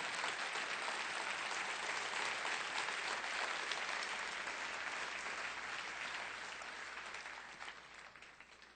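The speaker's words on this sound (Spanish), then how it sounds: "Denles fuerte ese aplauso al Señor." Applause from a church congregation during a sermon, a sustained, even roar of many hands clapping that slowly fades toward the end.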